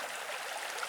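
Clean stream water flowing through woods, a soft steady rushing trickle heard briefly and faintly, even in level with no voices.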